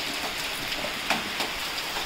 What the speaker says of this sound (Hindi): अभी बारिश हो रही है हल्की सी ठंडी ठंडी है